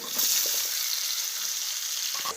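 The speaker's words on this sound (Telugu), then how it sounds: "ఆలుని చక్కగా ఇలా మొత్తం మళ్ళీ ఫ్రై చేసేసుకొని" Potatoes fry in oil with coarsely crushed garlic and curry leaves, giving a steady close hiss of sizzling with a few soft stirring scrapes near the start and end.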